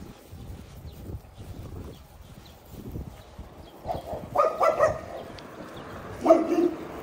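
A dog barks a few times toward the end, short moderately loud woofs, after a stretch of faint outdoor background noise.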